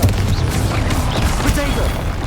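A fiery Confringo spell blast in Hogwarts Legacy on hard difficulty, a dense booming rumble of combat explosions and crackling effects lasting about two seconds.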